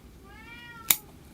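A house cat meows once, a clear rising-then-falling call at close range in a quiet room, followed right after by a sharp click or tap.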